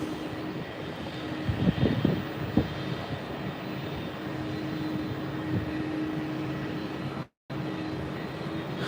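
An airliner spooling up to full takeoff throttle at Heathrow at night, a distant, broad engine roar with a steady tone, heard from a rooftop over a low background hum, with a brief dropout near the end.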